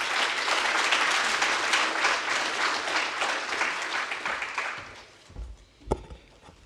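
A conference audience gives sustained applause for the closing speaker, with steady, dense clapping that fades out after about five seconds, leaving a few scattered claps and a thump.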